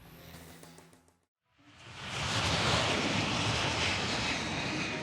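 A jet aircraft landing at Changi Airport with a double hydraulic failure, heard as a broad, steady roar that swells in after a brief hush and holds loud and close.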